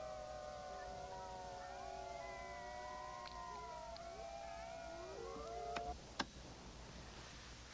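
White wolves howling in the far north: several long, overlapping wavering howls rise and fall together in a chorus, with a few sharp knocks near the end and no one speaking.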